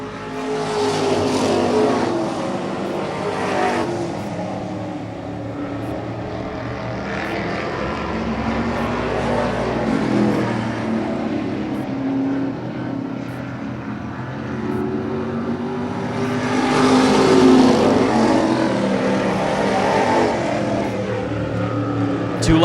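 Race cars circle a track in the closing laps of a short-track feature, a steady roar of several engines that swells and fades as the cars pass, with a loud surge near the end.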